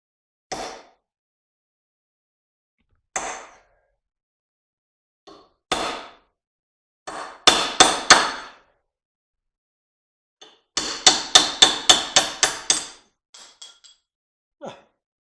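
Sharp hammer blows on a punch drive a brass bushing out of an Emerson electric motor, at first single strikes a few seconds apart, then quicker rapid clusters of ringing metallic hits in a quiet room.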